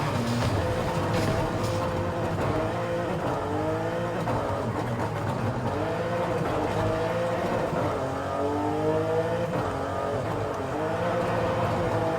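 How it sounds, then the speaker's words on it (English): A 2023 BMW M2 engine in the racing game Forza Horizon 5 revs and drones steadily, rising and falling in pitch as the car accelerates and shifts, loud and continuous with no break. "Very impressive, the sound of the car."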